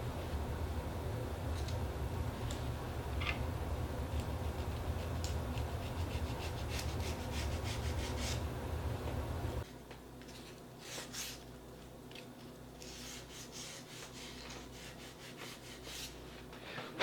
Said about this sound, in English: I'll go ahead and sand the inside and outside of the line.